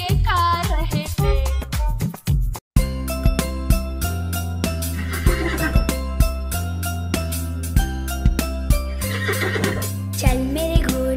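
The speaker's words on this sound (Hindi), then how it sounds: "चल मेरे घोड़े चल चल चल" A horse neighing and whinnying within a Hindi nursery rhyme song, heard amid upbeat music with clip-clop rhythm and jingling, loud and mixed into the melody.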